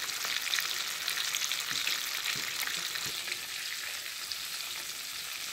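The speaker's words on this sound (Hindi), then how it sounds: "मैंने इसे 13 मिनट तक फ्राई किया है लो और मीडियम फ्लेम पर।" KFC-style chicken deep frying in oil on a low flame, a constant dense bubbling sizzle that holds steady with faint soft crackles throughout and no voices.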